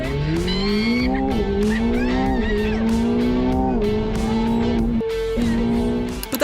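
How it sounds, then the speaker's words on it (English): A race car driven by a Formula 1 driver accelerates hard, its engine note loud and close, pitch climbing steadily through the gears with brief shifts, a tire squeal rising over the howl, and one sharp gap near the end. "when Sam slammed the accelerator"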